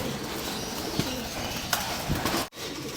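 Hungry breeder pigeons cooing inside a loft colony, a few soft low coos over a dense, steady background hiss.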